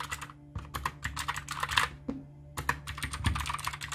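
Keys clack rapidly on a Magicforce Smart 2 mechanical gaming keyboard, a close, steady run of crisp strokes with one short pause midway, with no talking.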